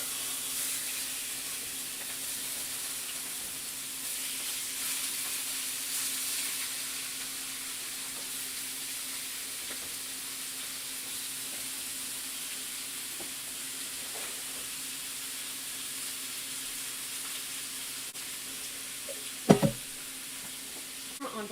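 Chicken pieces for soup fry in a hot pan with a steady, close sizzling hiss that fills the whole stretch, broken near the end by a brief clatter of utensil against pan.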